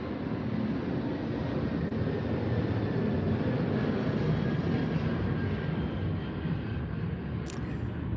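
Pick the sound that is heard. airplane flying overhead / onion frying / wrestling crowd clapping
airplane flying overhead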